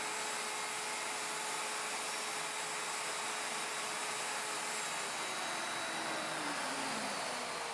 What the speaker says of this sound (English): And finish up the tenon by routing counterclockwise.